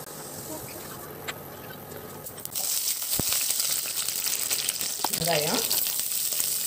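Oil sizzles steadily, then jumps to a louder, crackling fry as mustard seeds and lentils hit the pan, with a few clinks and stirring scrapes.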